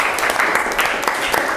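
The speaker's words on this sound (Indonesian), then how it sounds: "Tepuk tangan buat kelompok 3." Applause for group 3 in a classroom, a brief burst of steady clapping from a small group of students, fairly loud and close, with some voice noise mixed in.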